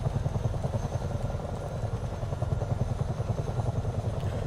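Chinook twin-rotor helicopter engine and rotor noise in Microsoft Flight Simulator 2024, a steady, loud droning thrum with rhythmic rotor chop continuing throughout without a break.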